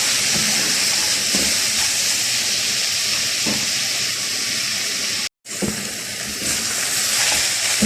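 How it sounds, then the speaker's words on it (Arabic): Lamb meat and onion searing in a pan for okra stew, a steady loud hiss and sizzle that runs almost unbroken, with a brief cut partway through, and no talking. "احلى تشويحة للحمة بتاعت البامية، اكل بامية ولحمة بقى محمرة"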